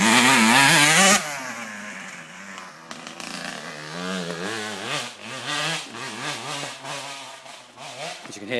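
A motocross bike engine revs on a dirt race track, loud and close, its pitch rising and falling in repeated throttle blips after an opening burst at full power.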